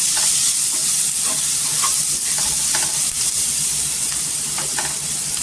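Potatoes fry in a pan with turmeric powder and are stirred the whole time. A loud, constant sizzle fills the clip, with soft scrapes of the stirring utensil at regular intervals. Nobody speaks.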